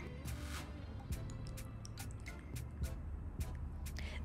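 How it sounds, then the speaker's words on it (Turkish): A cream of honey, grape seed oil and vitamin E capsules being stirred in a small bowl, giving faint wet squishes and soft clicks of the utensil against the container over a low background hum. "Bu üçünü çok iyi karıştıralım şimdi."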